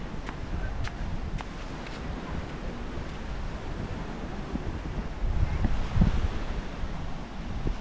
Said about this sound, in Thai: อากาศดีครับผมลมเย็นนะครับตอนนี้